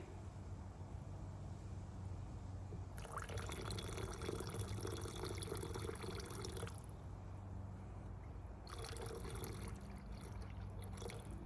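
Nitric acid is poured into a chemical solution made with powdered RAM chips, in two hissing liquid bursts separated by a pause over a quiet, steady background.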